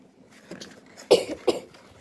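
A person coughs twice in quick succession, close and fairly loud, after a few soft throat sounds, with nothing else around it.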